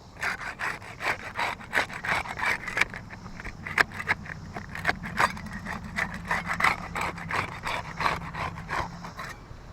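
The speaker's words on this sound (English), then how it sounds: "We'll get started with the putty knife. I'll start by unsealing the top row shingles here." A putty knife works along the top row of old, crumbling asphalt roof shingles, breaking the seal with steady, repeated scraping and rubbing strokes, close and fairly loud over faint background hum.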